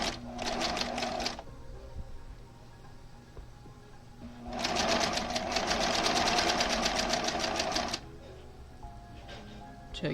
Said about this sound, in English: bring it over to the sewing machine, and we're going to pick up one piece at a time and bring it over to the strip, turn it over, and sew a scant 1/4 inch